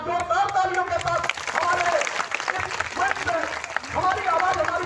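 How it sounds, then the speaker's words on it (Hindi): Crowd applause at a political rally in Delhi, a sustained patter of many clapping hands from a large gathering, with someone speaking over a microphone at the start and end. "एक बार जोरदार तालियों के साथ"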